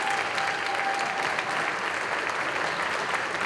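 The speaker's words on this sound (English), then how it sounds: "Let's give one more round of applause to all of our jazz performers." Sustained audience applause for jazz performers at a school arts festival, dense steady clapping from a large crowd filling a hall, even in loudness throughout with no speech over it.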